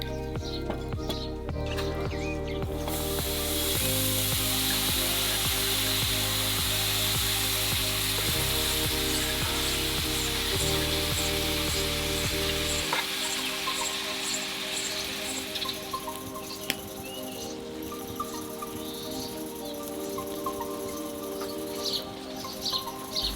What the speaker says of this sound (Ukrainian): Але ми лишимо її шматочками і просто підсмажимо на пательні.